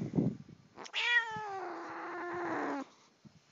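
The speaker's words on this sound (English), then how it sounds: "That's meow." A pet cat named Princess lets out one long, drawn-out meow, loud and close, after a short scuffle of handling sounds and a brief voice just before it.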